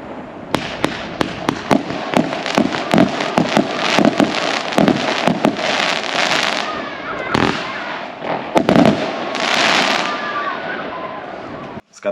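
A consumer fireworks cake with 120 rocket shots goes off in rapid succession, loud sharp launch bangs and crackling bursts rattling on for about twelve seconds before a final pop.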